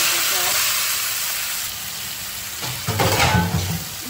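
Chopped onion, garlic and ginger hit hot oil with a loud, steady hiss that swells into a stronger sizzle and stirring scrape toward the end, close and without talk.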